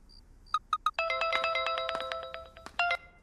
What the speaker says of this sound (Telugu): నాన్నకు ఫోన్ వచ్చిందిరా.